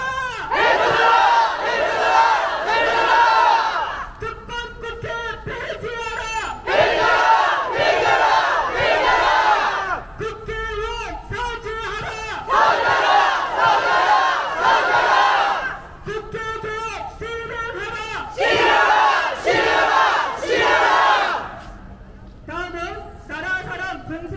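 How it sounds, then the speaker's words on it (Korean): A crowd at a civic movement's launch rally in Chungbuk chants picket slogans in loud, rhythmic bursts of shouting voices that repeat with short pauses between each call. "오늘은 이 뜨거운 마음으로 피켓 구호를 외치겠습니다"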